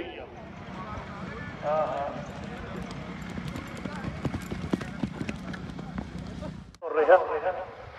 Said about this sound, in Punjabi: ਦੁਕਿਆਂ ਵਾਲੇ ਜੱਸੀ ਦੀ ਇਹ ਘੋੜੀ ਆ